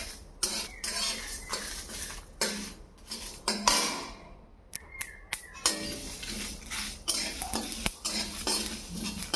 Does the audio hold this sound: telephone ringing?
no